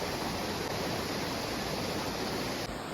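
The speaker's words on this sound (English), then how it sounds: "just a quick apology for how loud the creek is during the practice part of the video" A loud creek rushes steadily close by, a dense, unbroken wash of flowing water that fills the whole scene without pause.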